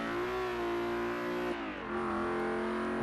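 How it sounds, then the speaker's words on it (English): Quartz Regalia luxury car engine in Forza Horizon 3, a steady, growly drone with sustained harmonic tones that dip briefly midway and then resume, loud and continuous throughout with no talking. "I'm not too sure what to think about the engine sound of this vehicle."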